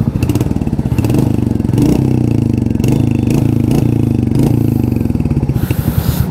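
A Royal Enfield Hunter 350 motorcycle sits close by, its exhaust throbbing loudly in a steady thumping idle and rising in short revs with mechanical clatter, and nobody speaks.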